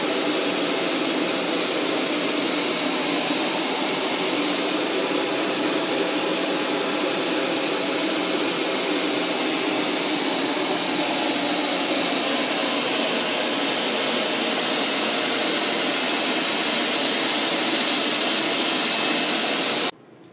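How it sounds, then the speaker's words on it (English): An antique Kirby vacuum cleaner motor drones loudly and steadily with a high whine for about twenty seconds, then cuts off abruptly. "It's an antique Kirby vacuum."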